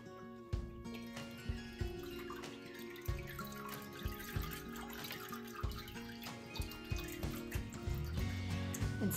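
A papermaking screen raised slowly out of a vat of water, with a steady patter of drips and trickles running off the mesh and pulp, close by and fairly quiet, no voices.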